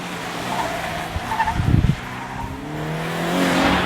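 A Toyota GT86 on Michelin Primacy tyres, electronic stability off, squeals its tyres while drifting sideways, with a steady engine drone beneath a sustained screech that swells near the middle of the moment.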